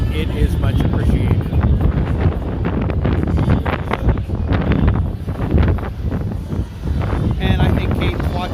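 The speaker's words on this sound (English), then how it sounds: "It is really starting to get windy. Just that evening wind coming in off the lake" Evening wind coming off a lake at an amusement park buffets the microphone in a loud, continuous roaring rumble that swells and dips, with faint background voices and crowd murmur underneath.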